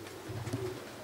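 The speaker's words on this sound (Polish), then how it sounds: "te gołębie siadły na wlotach" Racing pigeons coo softly as they land on the loft entrances, a brief low throaty coo heard close by against quiet outdoor air.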